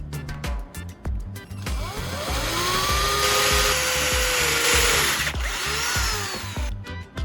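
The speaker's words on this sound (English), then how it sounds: "Start with a small wooden board and drill a tiny hole in it." A power drill bores a tiny hole through a small wooden board, a steady whining run of several seconds framed by brief clicks and handling knocks at the start and end, close and loud with no talking.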